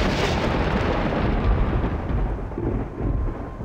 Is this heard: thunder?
yes